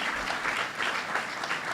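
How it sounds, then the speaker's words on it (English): Applause from the audience at a Lake Placid sustainability conference, a brief, even wash of clapping heard at a moderate distance, with no voices over it. "let's give a round of applause."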